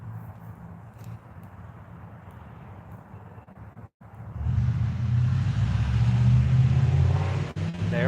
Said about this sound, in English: I can hear all the traffic out on the highway.